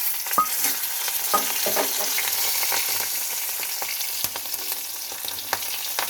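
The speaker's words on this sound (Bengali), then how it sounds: "এবার দিয়ে দেব কাঁচা লঙ্কা।" Green chillies fry in hot oil alongside fenugreek, a steady close sizzle broken by clacks and scrapes from a spatula stirring the pan.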